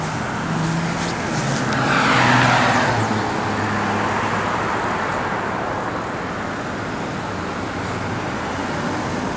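A 1969 Pontiac Firebird convertible on Rally II wheels with BF Goodrich Radial T/A tires cruises down the road, a steady engine and tire roar with wind rushing past, swelling briefly then holding at an even level.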